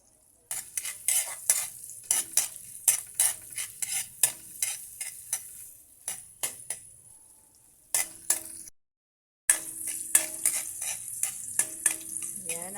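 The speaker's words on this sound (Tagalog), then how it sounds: "Gisa natin yung ating luya." Ginger sautéing in a pan gives a close sizzle broken by repeated sharp scrapes and clinks of a spatula stirring, a brief silent gap near the end, then sizzling and stirring resume, with no speech.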